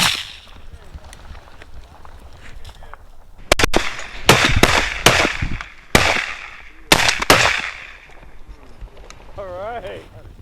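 Shotguns fire during a goose hunt in frigid snow, several loud sharp blasts in quick succession, one then a tight cluster of three or four, with quieter talk and calling around them.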